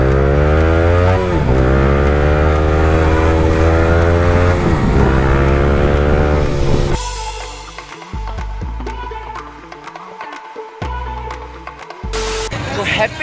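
A large group of motorcycles rides together on a Delhi NCR road, with loud revving and passing engine drones close by, then thinner, scattered engine sounds and rushing wind as the ride continues.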